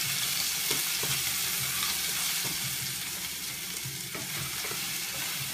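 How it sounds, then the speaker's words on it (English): Steady crackling sizzle of garlic, onions and pasta frying in hot oil, continuous and close, with occasional soft scraping knocks of a utensil moving it around. "you're gonna let the garlic, onions, and pasta fry in the oil for a little bit."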